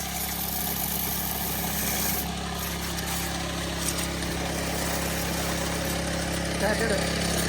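A tractor engine idles with a steady, low, rumbling hum throughout, close by. Muffled voices can be heard faintly underneath.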